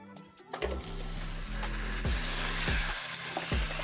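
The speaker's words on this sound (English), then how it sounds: "we're gonna go in a 10-inch pan with a little bit of oil and 1 pound of ground beef" A pound of ground beef browning in a little oil in a 10-inch pan, giving a steady close sizzle with scraping stirs and a few knocks of a utensil against the pan.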